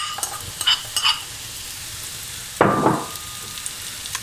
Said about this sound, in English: heat your oil in your frying pan, and then we're just gonna dump our vegetables in